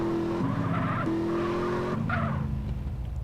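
A Mazda RX8 in MTA San Andreas drives with a steady, close engine drone and tyres squealing in long skids, the pitch stepping through gear-like shifts a few times.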